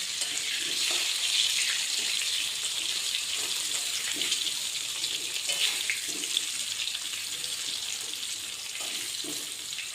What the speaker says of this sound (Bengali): আর 2 মিনিট হলেই ভাজা হয়ে যাবে আলুটা